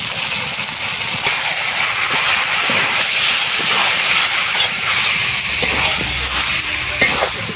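Salt-and-lemon marinated chicken hits a hot pan with a loud, steady sizzle and hiss that continues throughout, with occasional stirring scrapes and no talking.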